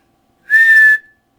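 A mouth imitation of a gunshot made by whistling and blowing at once: a single loud, steady high whistle with breathy hiss, lasting about half a second, alone and close.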